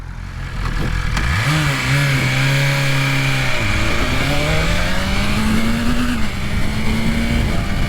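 A superbike with a tall first gear revs and accelerates hard, its engine note climbing, dipping at a shift, then rising again in a loud, close, continuous roar with no voices.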